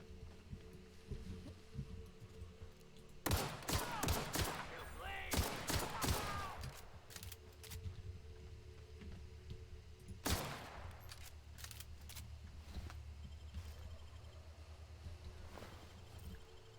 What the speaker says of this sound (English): all guns are loud